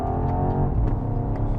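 A BMW XM with 650 horsepower accelerating hard, its engine note rising in a steady, fairly loud drone heard from inside the car.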